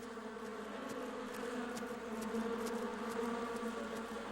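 Bees buzz in a steady, droning hum near a hive and their food source, a soft continuous insect whine with faint ticks of wingbeats passing close by.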